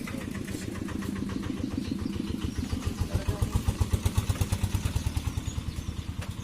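A motorcycle engine running close by, its rapid, regular thumping pulses growing steadier and more pronounced as it idles.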